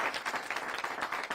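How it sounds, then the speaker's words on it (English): An audience breaks into steady, dense applause for the staff at Milwaukee Early Childhood Center during a gathering with the governor, a loud continuous patter of many hands clapping with no talk over it. "Can we give a round of applause to the staff here at Milwaukee Early Childhood Center?"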